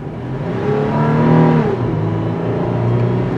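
A 2022 Toyota 4Runner TRD Sport on a test drive, its engine revving and pulling steadily as it accelerates, heard from inside the cabin, loud and continuous with a rising engine note.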